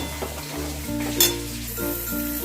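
Mankochu (giant taro) paste fries in a pan with a steady close sizzle, punctuated by a brief spatula stir and scrape, and no talk.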